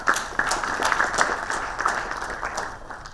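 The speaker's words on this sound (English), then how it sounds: "Let's give a big round of applause to Pankaj." A conference audience claps for a keynote speaker on the future of manufacturing at an Autodesk India event: a moderate, continuous round of applause with distinct claps standing out, fading slightly toward the end.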